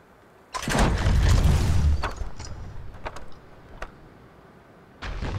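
A trebuchet in Conan Exiles flings boulders with a loud heavy whoosh and rumble, followed by scattered thuds and clatter of impacts, then another launch starting at the end.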